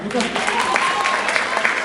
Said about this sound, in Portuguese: Uma salva de palmas para a Tainá